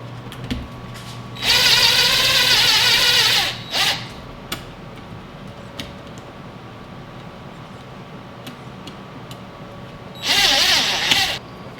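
A cordless power drill drives screws into a chandelier's ceiling mounting bracket, two whirring bursts a few seconds each with a short blip between, loud and close against a quiet room with no talk.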